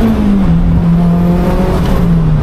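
A 460bhp Mk2 Golf G60 Rallye, front-wheel drive, pulls hard in second gear, its engine note loud and close, rising steadily in pitch with a steady harmonic drone and no voices.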